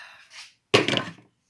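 A food processor cooking robot's lid is shut after a faint rustle, landing as one solid, close thunk with a short rattle as it settles.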